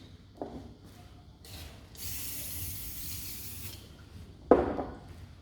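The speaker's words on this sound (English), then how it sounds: "I gotta spray these" A few quick sprays of disinfectant hiss out onto hair clippers, one longer burst in the middle, followed by a brief rubbing sound up close.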